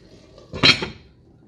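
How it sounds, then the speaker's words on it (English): A metal lid is set onto a pot of simmering chili on the stove. It gives a single short clank with a light rattle, then quiet. "I'm going to put a lid on it, let it cook for about 20 minutes"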